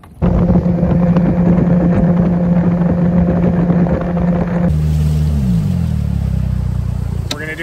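A Tracker Pro 170 boat's outboard engine runs steadily at a loud, even drone, then the pitch drops as it throttles down and settles into a lower idle near the end.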